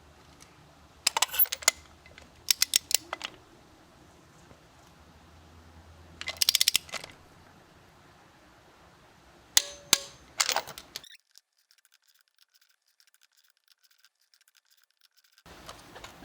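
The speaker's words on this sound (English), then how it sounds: "Next up, you want to torque these to 22 foot-pounds." Ratcheting torque wrench tightening spark plugs on a 2000-2006 BMW 325i/330i, several short bursts of close metallic clicking spaced over a few seconds, then quiet with a last click at the end.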